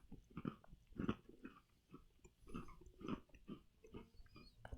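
Someone chews a crunchy peanut cookie close to the mic, a run of faint, irregular crunchy bites and mouth sounds with no talk.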